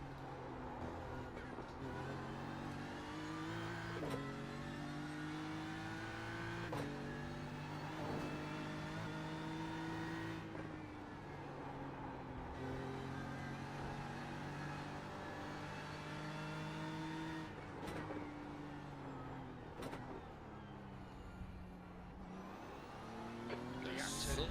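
A Porsche race car in a racing sim during a four-hour solo endurance event, its engine droning steadily with rising and falling revs through gear shifts and corners, continuous and close, with someone talking intermittently over it.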